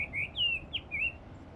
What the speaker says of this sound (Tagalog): Tingnan nyo, maingay yung ibon.